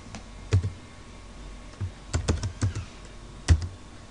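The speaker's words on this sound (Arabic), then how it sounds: "نكتب الباسورد بتاعنا الثابت" Keys clack on a computer keyboard as an admin password is typed during a Windows Server domain controller setup: scattered, quiet keystrokes in small clusters over a low room hum, with no talking.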